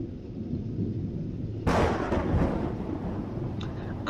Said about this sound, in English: Now that's a lot of wind. Whoo! Thunder!